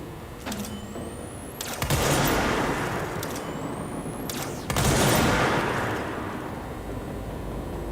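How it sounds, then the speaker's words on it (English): Enemy gunfire in Control comes in two heavy roaring bursts a few seconds apart, each swelling loud and then trailing off, with high whining tones in between. "it's shooting me with shit"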